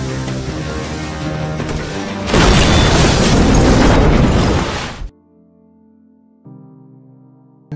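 A loud, roaring explosion bursts out with heavy rumbling that sustains for a few seconds, then cuts to quiet tonal music with low sustained notes.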